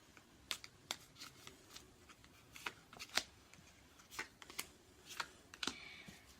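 Tarot cards being shuffled and drawn, close and quiet, a run of sharp flicking riffles and snaps spaced irregularly through the clip, with no talking.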